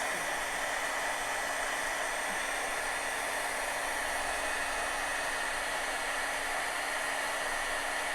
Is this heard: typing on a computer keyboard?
no